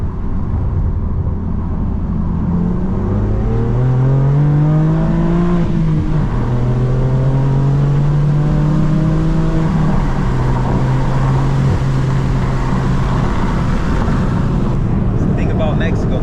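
A manual BMW M4 F82 with a loud exhaust driven hard on rough roads, heard from inside: the engine note climbs through revs, drops at a shift, then holds a steady drone over constant road and wind roar.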